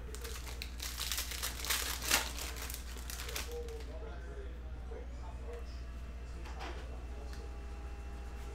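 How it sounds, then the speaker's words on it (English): Someone tears open a foil 2021 Mosaic football hobby trading card pack, making a burst of crinkling and ripping that fades into quieter rustling. A person talks over part of it. "Rip open this pack, and then we'll do the third and final dice roll."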